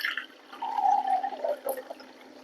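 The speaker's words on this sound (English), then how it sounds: "Go ahead and weigh this out with some filtered water." Filtered water pours into a container sitting on a kitchen scale for pizza dough, a short gurgling, rising fill sound heard close up, with no talking.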